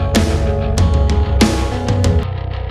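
Bass guitar in a mix, compressed with light distortion on the top end, plays loud, punchy plucked notes in a steady rhythm, thick and close with a gritty upper edge.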